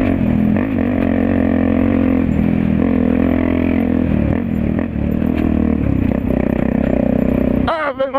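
A motorcycle accelerates along a rough, potholed dirt trail through brush, its engine droning loud and close with rattling and scraping from the bumps, and a short voice at the end.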